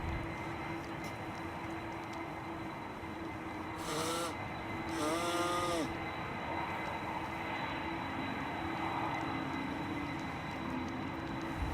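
A steady, broad Airbus A330 jet engine roar heard from inside the cabin, constant and droning, with a couple of brief higher chimes or tones partway through.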